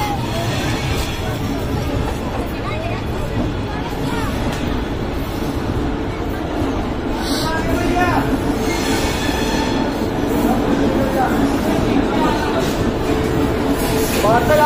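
A passenger train pulling into Jabalpur Junction station in India, with a steady loud rumble of rolling railcars, occasional wheel squeal and station chatter in the background throughout.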